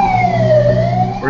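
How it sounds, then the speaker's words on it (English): A fire engine siren wails loud and close through a residential neighborhood, one long sweeping tone that dips and rises again as it passes, with no voices. "Hold on for the siren."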